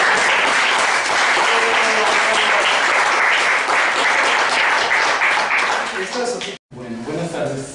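Audience applauding at the end of a philosophy café session, dense sustained clapping from a crowd filling the room, tapering off and briefly cutting out before speech resumes.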